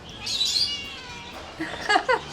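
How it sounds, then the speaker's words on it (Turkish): A pet cat meows a few times, short rising cries rising out of a quiet background with faint chirpy noise, moderately close. "Ama bence mutlu olmadığından miyavlıyor gibi geldi bana."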